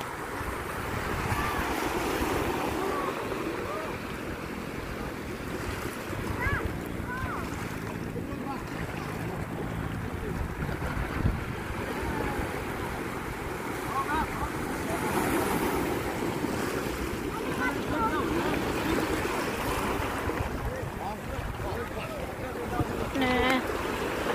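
Sea waves crash and surge at the seaside, a continuous rolling roar mixed with gusty wind buffeting the microphone, while a person talks excitedly over it.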